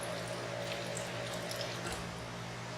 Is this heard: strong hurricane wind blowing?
no